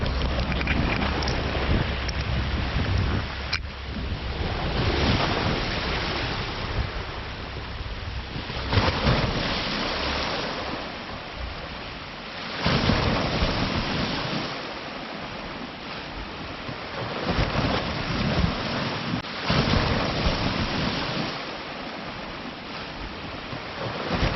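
Sea waves wash onto the shore at Hornsea, with steady broadband surf rising into louder splashing surges every few seconds and no voices.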